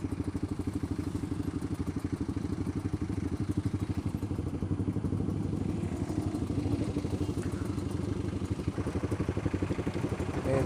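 A Honda CBR 150R K45 motorcycle engine idles at about 1,500 RPM, a steady, rapid mechanical chugging with a faint rattle, close and loud throughout with no pauses.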